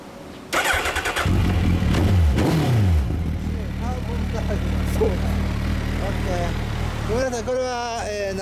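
A 2011 Suzuki Hayabusa motorcycle engine fires up loudly and revs a few times, then settles into a rumbling idle with people talking over it near the end.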